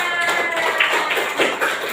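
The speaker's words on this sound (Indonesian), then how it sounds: "Nah, tepuk tangan." Children clap their hands together in a classroom after singing a song, a dense run of sharp overlapping claps lasting a couple of seconds with faint background noise.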